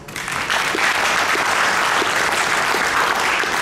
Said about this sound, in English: Can we give BICSI a round of applause?